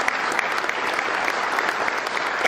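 An audience at a political gathering in Plymouth Meeting, Pennsylvania breaks into steady, dense applause, many hands clapping together at a sustained, fairly loud level throughout.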